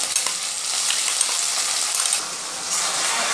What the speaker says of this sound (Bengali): প্যাঁচটাকে একটু লাল লাল করে ভাজবো